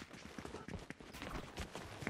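Horse hooves clip-clop in the Fortnite video game, a quick run of thuds under busy game effects and background noise, with no clear speech.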